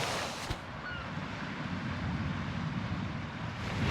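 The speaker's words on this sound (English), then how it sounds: "it's really quite cold and the wind stays quite rough" Rough, cold wind on the Isle of Skye coast, a loud constant roar buffeting close around the microphone, with a brief thump near the start.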